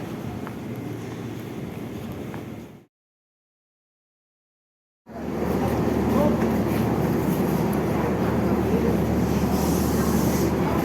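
A KRL commuter train at Jakarta Kota station gives a steady, loud rail rumble and rolling noise. The sound cuts to silence for about two seconds and then comes back just as dense.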